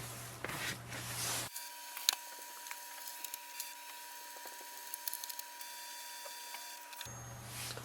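An HP Envy Pro 6400 printer scans a page fed from its document feeder: a quiet, steady mechanical hum with small clicks and rubbing ticks for about five seconds, framed by brief louder motor whirs at start and finish.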